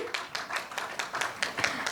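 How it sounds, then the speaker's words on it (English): Audience members clap for an honoree at a women leaders award event in Goa, a light run of scattered, fairly soft claps recorded from a distance. "Ladies and gentlemen, can you all clap for Mohua Chakraborty?"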